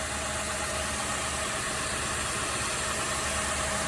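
An Infiniti M45 engine idles steadily up close, a continuous even rumble with no break, after power steering high pressure hose work.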